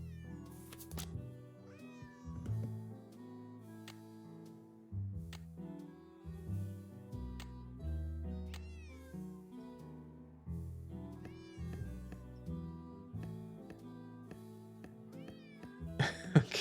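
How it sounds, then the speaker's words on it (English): A cat meows repeatedly in a Nancy Drew: Secret of the Old Clock game, a series of drawn-out, wavering calls with short pauses between them, clear and close, with some musical tones in the background. "we've got to listen to the cat on your stream for this one"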